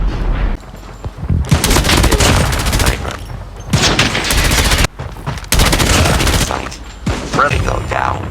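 Loud, sustained automatic gunfire sprays bullets in Call of Duty Mobile, coming in long continuous bursts broken by brief pauses, with someone speaking quietly underneath.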